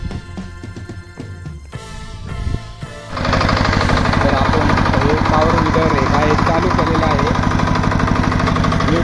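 Some quiet mechanical clatter, then a Kirloskar 8 hp power weeder's small engine starts and runs loud and steady with a rapid, rattling chug for several seconds.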